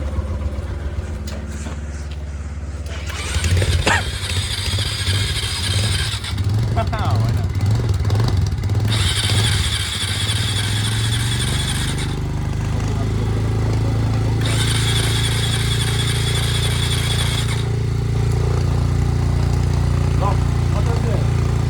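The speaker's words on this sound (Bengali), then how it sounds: "ফাইনালি স্টার্ট হয়ে গেল, ধাক্কা দিয়ে স্টার্ট করতে লাগলো, এত ঠান্ডা মাইনাসে" A motorcycle is push-started in sub-zero cold on a high-altitude Sikkim ride to Gurudongmar Lake. The engine sputters through uneven bursts before catching into a steady, close idle, with voices heard around it.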